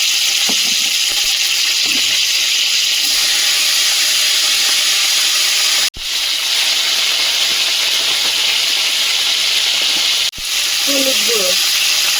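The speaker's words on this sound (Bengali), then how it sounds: "এবারে ভাজাটা বসিয়ে দেবো গোটা জিরে আর শুকনো লঙ্কা ফোড়ন দিয়ে" Whole cumin and dried chili sizzle in hot oil for a tempering, a strong continuous frying hiss with a couple of brief interruptions near the end.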